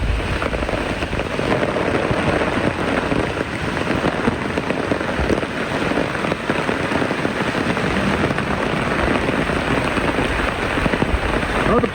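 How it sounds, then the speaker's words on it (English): Steady rain falls outdoors in a garden, a dense, constant patter of drops hitting surfaces, loud and even for the whole stretch with no voices. "I'm gonna have to seek some shelter because it's raining."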